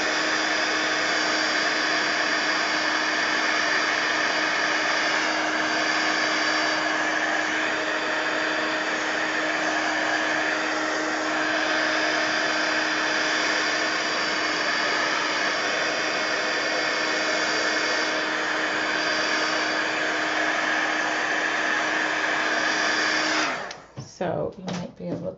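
A dryer blowing steadily to dry gesso on a mixed media art piece, a loud continuous whirring hum with a steady tone, close by, cutting off abruptly near the end.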